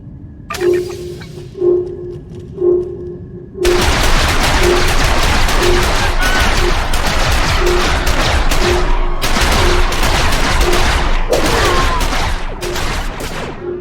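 Blaster gunfire in Star Wars: The Old Republic: a few spaced shots, then a long, dense barrage of rapid bursts and impacts, loud and continuous.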